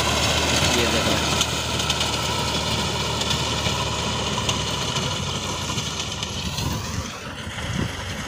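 A Massey Ferguson 385 4x4 tractor engine runs steadily during the wheat harvest alongside a thresher, a loud continuous drone with wind buffeting the microphone outdoors.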